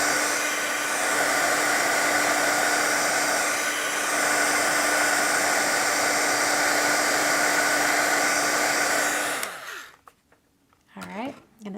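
A heat tool blows a steady, loud, breathy whir over embossing powder on a card for about nine seconds, then shuts off, leaving a voice speaking quietly.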